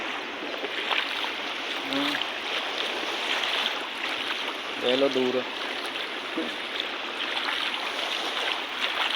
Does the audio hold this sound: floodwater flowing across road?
yes